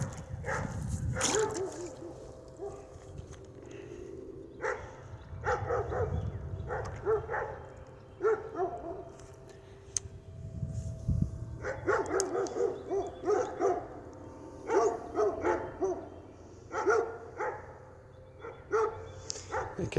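Dogs beside a drainage ditch bark and hoot in repeated bursts for about twenty seconds, moderately close, with faint low rumble between calls.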